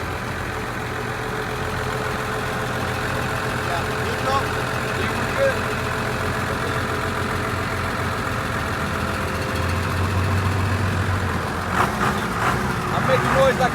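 A voice imitates a Dodge Cummins truck engine driving, a steady low rumbling drone held for a long stretch with slight rises near the end.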